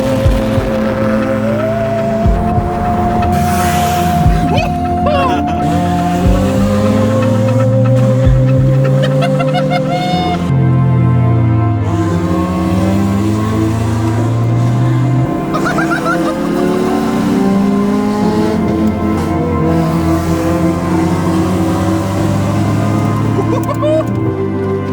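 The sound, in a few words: three Honda Civics passing loudly on the motorway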